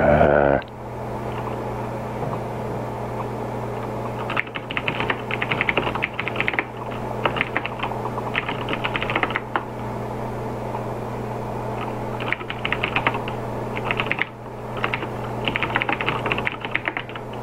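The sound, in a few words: typing on a computer keyboard near the microphone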